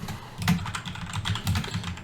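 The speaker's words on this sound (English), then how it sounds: "I'm like typing the wrong words constantly." Rapid typing on a computer keyboard while building a Marvel Champions deck, a steady close run of key clicks with slight bursts, no talking.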